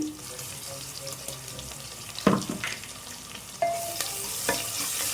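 Ginger garlic paste sizzles in hot oil while being stirred for a drumstick-leaf dal, a close, steady frying hiss broken by several sharp spoon scrapes and a louder burst midway.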